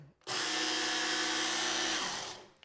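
A Work Sharp Knife & Tool Power Sharpener grinds a knife edge in one steady, loud motor whine lasting about two seconds, starting abruptly and winding down at the end, close by with no speech.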